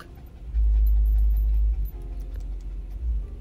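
A dog pants and whimpers close by, with a loud low rumble at the start over the soft, breathy panting and no talking.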